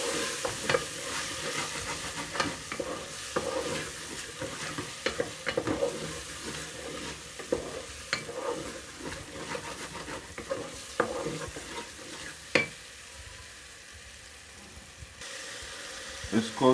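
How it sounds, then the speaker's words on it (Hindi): Masala with turmeric and tomatoes frying in a pan while being stirred, steady sizzle close by with repeated scraping and clinking of the spoon, some quiet talking beneath. "इसको उस वक्त तक भूनेंगे जब तक मसाला अच्छी तरह हो नहीं जाता और टमाटर गल नहीं जाते"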